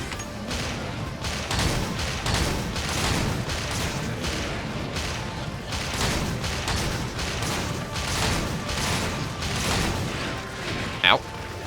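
Light bowgun firing repeatedly from a crouching stance in Monster Hunter 3 Ultimate, a dense run of rapid shots and impacts over game sound, with a sharp tone near the end.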